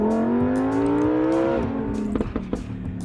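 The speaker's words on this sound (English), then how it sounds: "The noises the Huracan Evo makes is absolutely ridiculous." The naturally aspirated V10 of a Lamborghini Huracan Evo revs up in one rising, loud howl, then drops off into a few sharp exhaust pops and crackles. It sounds close by, with no talking.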